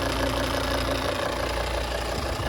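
A 2017 Volvo XC60 2.4 diesel AWD engine runs with a steady, loud, close mechanical drone and a slight rise in pitch, with no voices over it.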